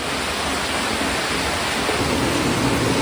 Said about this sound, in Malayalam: പുറത്ത് നല്ല മഴയും പെയ്യുന്നുണ്ട് കേട്ടോ